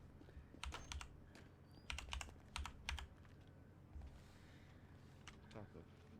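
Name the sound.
loud mechanical keyboard typing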